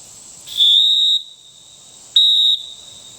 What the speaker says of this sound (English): I'll have time to blow the whistle and let him work with that some too